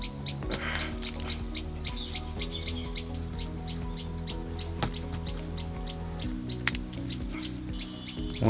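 A sparrow nesting in a rooftop garden chirps in a quick, regular series of sharp, high peeps that begin a few seconds in and repeat over a low steady background hum.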